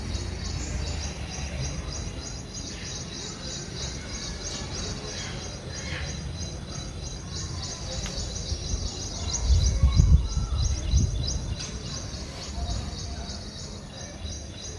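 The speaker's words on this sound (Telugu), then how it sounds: "పక్షుల అరుపులు ఎక్కువగా వినపడతాయి" Birds chirping around a house, a steady chorus of high repeated tweets with insect-like trilling underneath, continuous and moderately close throughout.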